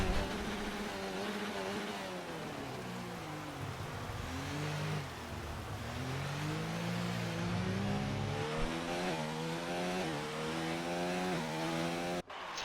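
The onboard engine of a Formula 1 Red Bull car in an Xbox racing game screams loud and close throughout, its pitch dipping and climbing through gear changes and revving hard.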